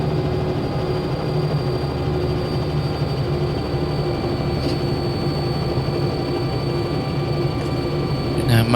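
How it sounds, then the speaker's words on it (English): A Robinson R66 turbine helicopter runs on the ground after landing in wind as the engine is brought back to idle, giving a steady, loud whine and hum heard from the cabin. "We're going to release the engine back to idle."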